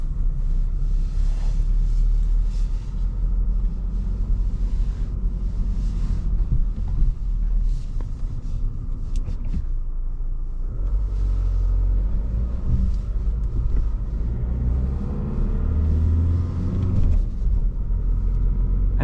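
Ford Kuga 2.0 EcoBlue mild hybrid diesel with a manual gearbox, driving out of a large garage at night: a steady low engine rumble heard from inside the cabin, continuous and fairly loud, with no talking.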